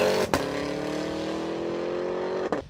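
A 2023 Cadillac Escalade's supercharged V8 engine revs hard, holding a steady, throaty high-pitched drone for a couple of seconds between two abrupt shifts, sounding fairly close.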